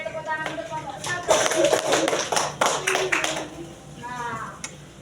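Classroom applause for a student group, a short burst of hand claps from a small crowd of pupils building and fading over a few seconds, with children's voices murmuring in the background.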